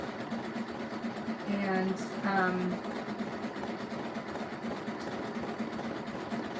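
A sewing machine stitches a rope basket with a steady mechanical whir running throughout, while a person speaks briefly over it partway through.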